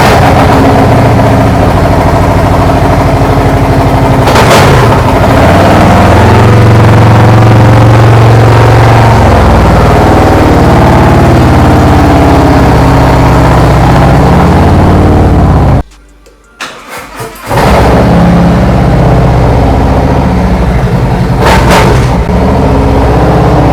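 A motorcycle engine runs loud and close inside a garage, idling with a steady low rumble and rising into several revs, then cutting out briefly before starting up and running again.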